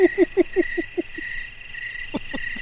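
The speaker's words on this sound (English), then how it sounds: "There's so many crickets." Crickets trill steadily in the background while a run of short, rhythmic croaking pulses repeats about eight times at the start, followed by a couple more later, fairly close and clear with no voices.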